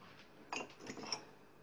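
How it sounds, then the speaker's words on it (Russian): A mug picked up from a kitchen cupboard gives a couple of faint, short ceramic clinks around the middle, over quiet room tone. "Итак, сейчас я беру кружку"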